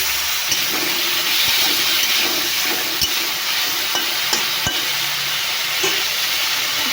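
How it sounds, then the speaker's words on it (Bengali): Potatoes fry in mustard oil with turmeric and salt, a steady close sizzle and hiss with occasional sharp clicks and pops from the pan. "আলুটা ভাজা করে নেব।"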